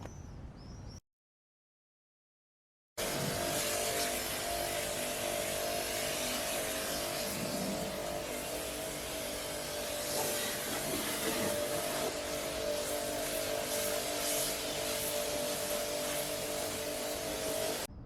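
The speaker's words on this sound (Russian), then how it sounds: "Для очистки внутренней части капота я буду использовать свою мойку высокого давления." A loud, steady mechanical drone with constant hiss as a pressure washer sprays inside a car hood, running nonstop after a brief silence near the start.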